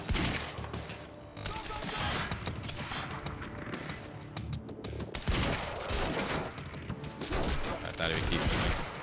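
Rapid bursts of gunfire at an enemy in Quantum Break, dense and loud, with repeated volleys over about nine seconds and a voice talking faintly beneath the shooting.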